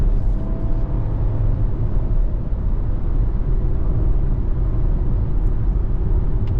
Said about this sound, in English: Spinning the wheels, so we're having a little hard time getting the power down.